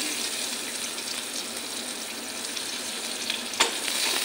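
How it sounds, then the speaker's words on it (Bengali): Onions fry in a pan with a steady, bright sizzle that runs unbroken throughout, with one brief sharp clink near the end and no voices. "পেঁয়াজটা একটু হালকা করে ভাজা করে নিই"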